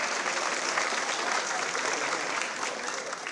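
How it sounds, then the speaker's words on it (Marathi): A large audience at a political gathering applauds loudly, a dense, even wash of clapping from many hands that holds steady and eases only slightly toward the end, with faint crowd noise beneath. "जोरदार टाळी वाजवा."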